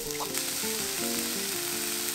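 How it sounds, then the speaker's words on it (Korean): Shiitake mushrooms being stir-fried in a pan give a close, steady sizzle with light scraping from stirring, and there is no speech. "버섯 넣고 볶아줍니다."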